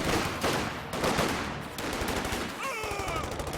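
Heavy automatic fire from an MG42 machine gun in a World War II shooter match, loud dense bursts filling the clip with no speech over it.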